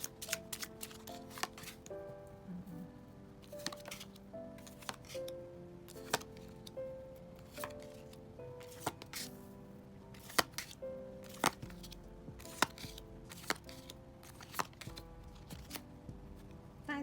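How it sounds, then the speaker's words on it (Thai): Tarot cards being laid out and turned over on a table, a long run of soft, irregular taps, flicks and slides, close and quiet, with no voices. "จะขอ เปิดไพ่ทั้งหมดก่อนนะคะ"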